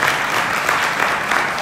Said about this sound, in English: let's give them a round of applause for every single person